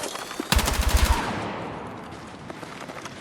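Automatic gunfire in Battlefield 6, a tight burst of about a dozen rapid, close shots lasting under a second, then a decaying echo and rumbling battlefield ambience.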